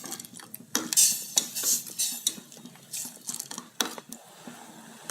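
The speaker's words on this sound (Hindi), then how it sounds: "इसको आधा मिनट ऐसे चलाएंगे ताकि गुड़ बिल्कुल मिक्स हो जाए इसमें।" Jaggery is stirred into kadha in a pot with a spoon, giving scattered clinks and scrapes against the metal in irregular bursts alongside a soft simmering hiss.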